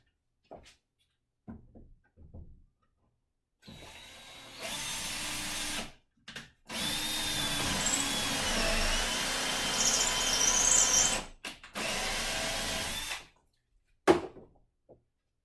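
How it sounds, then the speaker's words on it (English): Power drill boring a hole into a wall for a TV mount, heard in several bursts: short starts, then a long steady whirring run of several seconds, a brief stop and restart, ending with a sharp click, close and clear. "So now you just start drilling."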